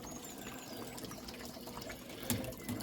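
Water leaking out of unglued pipe fittings on a homemade aquaponics setup, a steady trickling and splashing at moderate level with a couple of sharper drips near the end.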